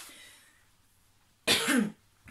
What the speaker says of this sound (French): je tousse parce que je suis enrouée